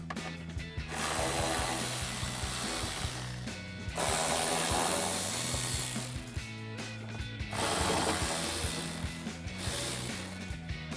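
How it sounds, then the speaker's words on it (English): Ratchet wrench with a 10mm socket backing out fender bolts on a Jeep Wrangler JL, a steady run of close, crisp pawl clicks in bursts with short pauses, no talking. "we can use our 10mm socket to remove 3 bolts here, here,"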